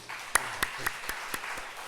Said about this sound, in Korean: 우리 박수 한번 치세요